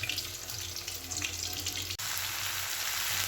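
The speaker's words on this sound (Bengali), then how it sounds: "এবারে পেঁয়াজ আর ক্যাপসিকাম আর এর সঙ্গে পেঁয়াজ কলির সঙ্গে একটু ভাজা করছি" Onion, capsicum and spring onion sizzle in oil while frying for chilli chicken, a steady hiss that runs alone throughout with one brief break partway.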